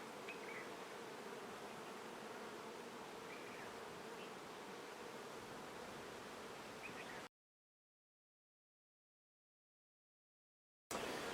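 Honey bees buzz inside a hive in Fiji, a steady, dense hum of many wings close by, cut off by a few seconds of silence near the end.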